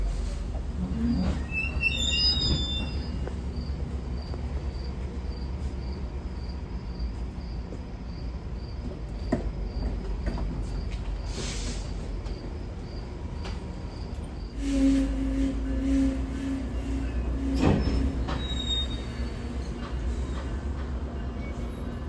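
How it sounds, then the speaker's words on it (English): A GO Transit commuter train in Toronto leaving the platform rumbles low and steady at a distance, with a brief horn-like tone and metallic squeals, while crickets chirp continuously throughout. "the train that just left is a local service to Union Station"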